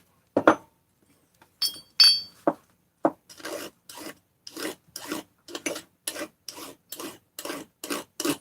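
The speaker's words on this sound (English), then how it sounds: "So I got to deburr these." Metal parts deburred by hand: a close, rhythmic series of about a dozen short rasping strokes with slight metallic clinks, alone in a quiet room.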